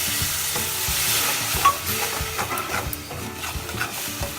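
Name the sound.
tomato paste frying and being stirred in a pan for paneer matar masala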